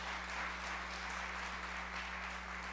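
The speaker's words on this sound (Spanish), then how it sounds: "Dele ese aplauso a este momento tan especial." A church congregation at a sermon applauds, a soft, steady wash of clapping heard faintly over a low electrical hum.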